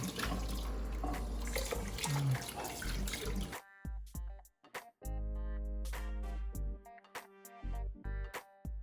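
Chicken intestines are washed under a running tap, with a dense, loud gush of water, then irregular splashes, sloshing and drips as the water is turned off and the pieces are handled, close up and with no speech.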